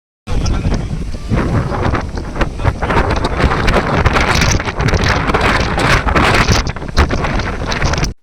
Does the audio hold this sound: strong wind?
yes